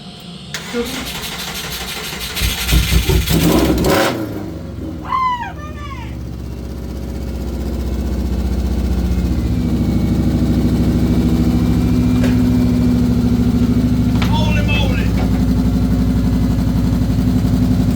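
Subaru Impreza GC8 being revived after sitting, cranking with a harsh starter whir that catches into a running engine, then settling to a loud steady idle close by while a few people talk.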